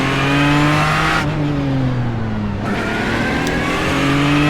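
A race car in iRacing accelerates and shifts repeatedly, its engine pitch climbing, dropping and climbing again, loud and close with no talk.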